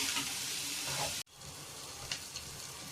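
Bitter gourd sizzles steadily as it is sautéed in a pan for a Tamil-style thokku. The loud, continuous frying hiss briefly cuts out, then resumes with a few light stirring clicks and no talking.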